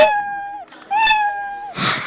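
Scratch's built-in cat meow sound effect plays twice, one short meow followed by a longer, clear one, then a brief burst of noise.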